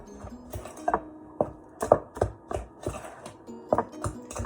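Baking powder, salt and baking soda for banana bread are mixed together in a bowl, making a series of irregular dry taps and scrapes of a utensil against the bowl, close and fairly distinct, with no voices.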